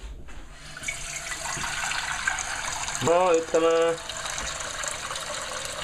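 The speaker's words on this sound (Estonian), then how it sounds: "Paneme potti vett." Tap water runs into a pot for buckwheat porridge in a home kitchen, a steady filling rush with a short brighter gush in the middle, while a person speaks briefly.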